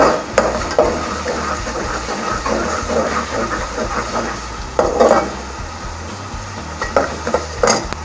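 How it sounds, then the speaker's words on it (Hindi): Vegetables stir-fried in a pan for Singaporean rice, a steady close sizzle with repeated scraping and stirring clatters and a few sharper utensil knocks, no talking. "जब तक चावल उबलते हम अपने सारा फोकस सब्जी फ्राई करने की तरफ लगाते हैं।"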